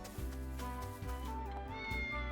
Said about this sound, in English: I love how there's just random cats that you can interact with.